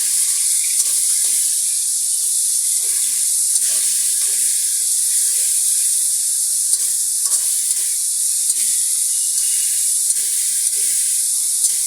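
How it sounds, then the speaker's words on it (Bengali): Boneless meat frying lightly in a pan for homemade noodles, a steady, even sizzle with soft intermittent stirring scrapes running throughout at close range. "একটু হালকা করে ভেজে নিই"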